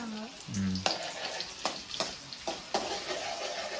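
A large quantity of eggs fries in plenty of oil in a pan. A loud, close sizzle runs throughout, punctuated by several sharp scraping and stirring clicks.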